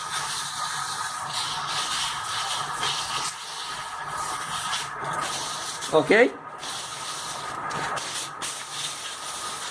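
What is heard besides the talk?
sanding sealed wood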